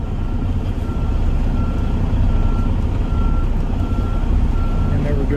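A semi truck backs up beside a corn field, its reversing alarm beeping in a steady, evenly spaced series over a loud, rumbling diesel engine idle, with a voice talking now and then.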